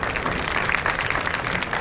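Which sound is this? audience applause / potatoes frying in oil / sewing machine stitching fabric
audience applause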